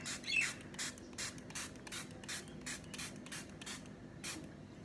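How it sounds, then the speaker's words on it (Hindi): Rose water toner misted from a spray bottle onto a face: about eight quick, soft pumped hisses in an even rhythm, close and quiet. "और मैं ऐसे अपने चेहरे पे इसको स्प्रे कर देती हूँ।"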